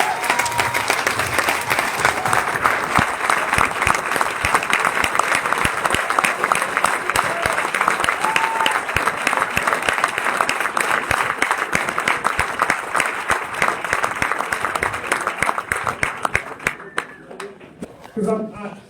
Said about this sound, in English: applause for all their service.